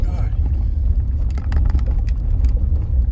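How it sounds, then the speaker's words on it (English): Brush and branches scrape along the body of a car creeping up a dirt road toward a trailhead, a continuous close rumble of tires and cabin noise with scattered scratchy clicks and rasps throughout. "I can hear those bushes scratching against my car"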